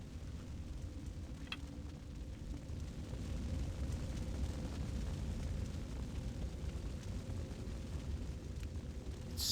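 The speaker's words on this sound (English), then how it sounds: "Although it sounds just like fire, it's not magma. That is a fire elemental." A fire elemental in Thief Gold gives off a steady, low roar like a blazing fire. It rumbles on without a break, somewhat distant and muffled.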